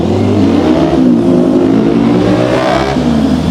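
A loud, close four-cylinder motorcycle engine with stock exhaust revs and holds a rough, throaty drone, the pitch rising and dipping slightly across a few seconds.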